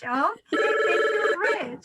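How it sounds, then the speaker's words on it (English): A telephone rings during an author interview, one sustained bright electronic ring tone between bursts of a man's speech, close and loud. "I do apologize for my phone here."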